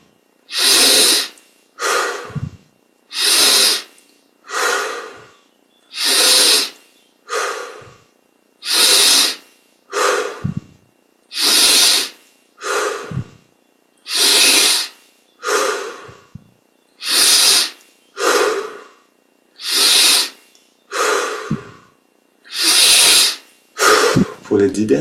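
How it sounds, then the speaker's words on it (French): Deep, forceful breaths in through the nose and out through the mouth during a guided breathing exercise, loud, close and evenly rhythmic, about sixteen breaths with brief pauses between them. "20 grandes respires. Inspire par le nez,"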